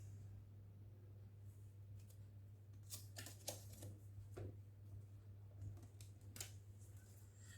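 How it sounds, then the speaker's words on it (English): Quiet, papery tarot cards riffle and snap in a few short bursts, close by, with soft rustling between them and no talking. "I shall also shuffle these cards."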